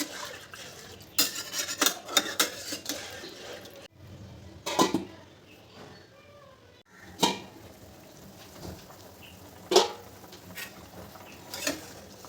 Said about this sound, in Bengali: এবার তরকারিটা একটু ভালো করে নাড়িয়ে আমি এটাকে 3 থেকে 4 মিনিটের মতন ঢাকা দেব।